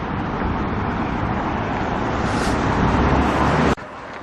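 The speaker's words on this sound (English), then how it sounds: "The traffic turning in from the main road" Road traffic passes on a main road and turns in, a continuous broad rushing noise that swells slightly as a vehicle goes by, then drops sharply near the end.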